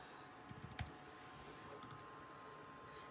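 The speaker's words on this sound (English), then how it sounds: "So I'm just going to type" Fingers type on a computer keyboard, a quick cluster of soft, close key clicks in the first second or so and a few more taps shortly after, faint against a quiet room with no talking.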